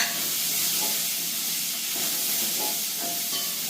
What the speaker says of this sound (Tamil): தக்காளி பழத்தை இதுக்காக போட்டு வதக்கி கொண்டு